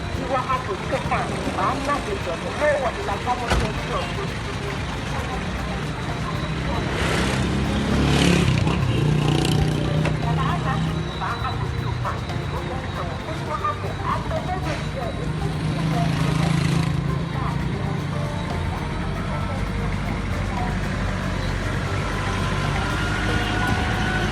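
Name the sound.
busy rush-hour road traffic in Jamestown, Accra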